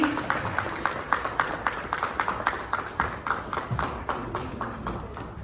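Applause greeting Ravi Kishan at a hotel press conference for the CCL Bhojpuri Dabang team, a rhythmic run of claps beating steadily and fairly close throughout, with no voices on top.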